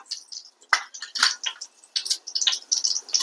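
Mustard seeds and urad dal tempering in hot oil, giving a close, quiet flurry of sharp pops and sputtering crackles scattered irregularly throughout.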